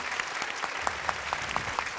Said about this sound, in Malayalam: നല്ലൊരു ക്ലാപ്പ് കൊടുത്തേ